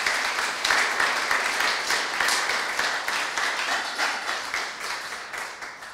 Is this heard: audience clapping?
yes